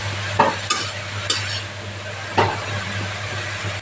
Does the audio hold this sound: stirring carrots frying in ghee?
yes